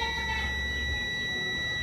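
A continuity-tester buzzer sounding across a shorted power circuit in a TCL frameless LED TV, a steady, faint electronic tone held for under two seconds over a low hum.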